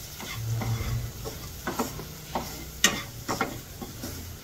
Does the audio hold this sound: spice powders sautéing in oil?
yes